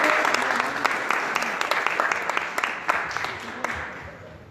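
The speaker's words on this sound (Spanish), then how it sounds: "un fuerte aplauso para Roberto" An audience gives a warm round of applause for a speaker at an academic project presentation, brisk, dense clapping across the room that stays fairly loud before tapering off toward the end.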